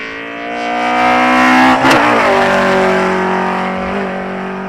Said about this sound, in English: Nothing sounds as good as an RB.